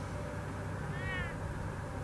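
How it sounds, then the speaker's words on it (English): A cat meows once in the Batman Telltale Series video game, a short rising-and-falling cry heard over a steady low background hum. "She's a pet cat."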